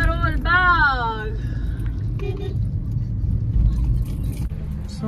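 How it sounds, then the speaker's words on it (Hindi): A car is parked in a busy Karol Bagh street, its low engine rumble running steadily throughout, with a rising tonal whine near the start and people talking in the background. "अब पार्क कर रहे हैं अपनी गाड़ी"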